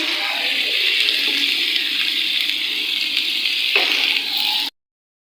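Onions frying in hot oil with fenugreek seeds for an okra masala, a steady loud hiss and sizzle running alone for nearly five seconds before cutting off abruptly.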